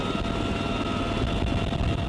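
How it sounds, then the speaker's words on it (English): A UH-1Y Venom military helicopter, a dense, steady rotor and engine roar that holds a constant level throughout. "these sensors are deployed by hand from the door of a UH-1Y Venom helicopter"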